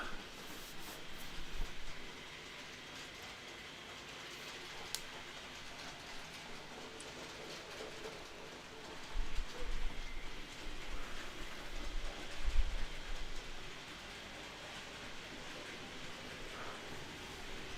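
A model Class 37 locomotive rumbles steadily along its layout track up an incline, a faint continuous running noise with a few louder clunks partway through.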